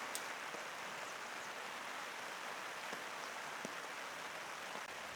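Heavy rain pouring down steadily over a beach campsite, a dense, even hiss of drops with occasional sharper taps, no voices.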